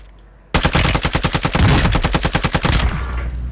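Rapid automatic gunfire from Call of Duty Modern Warfare 2, a loud, close burst of about twenty evenly spaced shots that stops abruptly and leaves a lingering echo tail.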